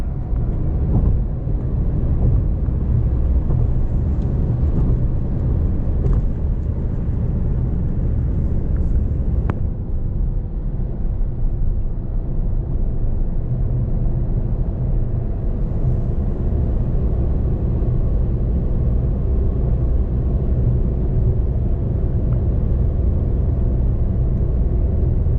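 A car drives through a short tunnel in Sicily, giving a steady, enclosed low rumble of engine and tyre noise that stays loud and unbroken throughout with no voices.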